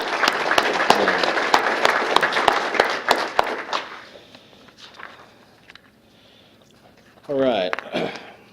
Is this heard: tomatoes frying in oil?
no